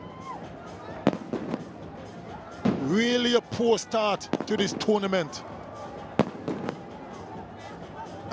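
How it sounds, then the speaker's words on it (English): Sharp bangs of fireworks at a Bangladesh Premier League cricket match, Sylhet Strikers against Fortune Barishal, crack through a stadium crowd in scattered bursts under continuous commentary. "And you can hear the fireworks in the background."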